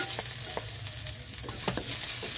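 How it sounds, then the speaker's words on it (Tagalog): Garlic and onion sautéing in oil in a pan, a loud continuous sizzle with repeated scraping stirs of a spatula, close and alone without talk. "dagdagan natin ng mantika ang ating pan, and then ang ating gisahin na natin ang ating bawang, sibuyas"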